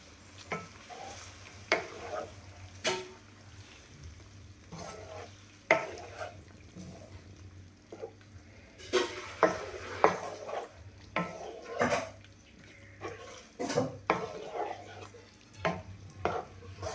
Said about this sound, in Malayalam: എല്ലാം കൂടെ ഒന്ന് മിക്സ് ചെയ്യാം.